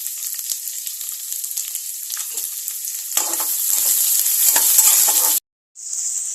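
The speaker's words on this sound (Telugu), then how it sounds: "పల్లీలు వేయాలి. కొద్దిసేపు ఫ్రై చేసుకుందాం." Peanuts and chana dal frying in hot oil in a pan for uggani, a steady loud sizzle that swells and crackles more busily toward the end, then cuts out briefly before resuming.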